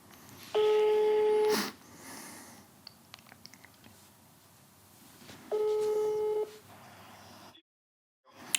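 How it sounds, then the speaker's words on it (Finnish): Ringback tone on a phone call to a managing director: two clear electronic ring pulses about a second each, separated by a quiet pause with faint clicks, ending in a brief silence. "Nettisivuilta löytyy toimitusjohtajan puhelinnumero, niin koetaan soittaa sillä."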